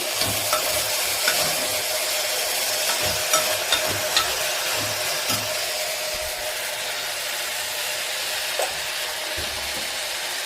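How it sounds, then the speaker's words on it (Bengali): Curry sizzling in a pan at home while being stirred, with a continuous frying hiss broken by soft scraping knocks of the spoon at an irregular pace. No one speaks. "আমি একটু নেড়ে দিই"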